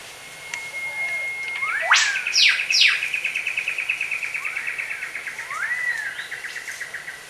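A wild bowerbird calls at its bower, giving a few sharp rising whistles followed by a long, rapid buzzing trill, clear and fairly close over quiet surroundings.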